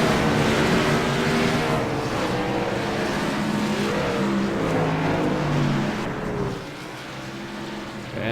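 A pack of race cars roar off the line in a PC racing game, engines droning and revving in overlapping rising and falling tones, loud and sustained before the noise drops away near the end.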